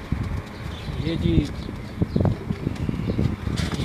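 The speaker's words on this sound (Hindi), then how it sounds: "ये मेरे घर के सलारे टैडी कबूतर हैं" Salare Teddy pigeons at a home loft cooing softly nearby, with rustling and light footsteps, under someone talking.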